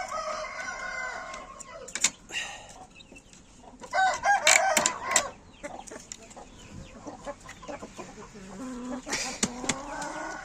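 A hen with her brood of fourteen chicks clucks and chirps nearby, with a rooster-like call in the middle and scattered farmyard noises, no talk.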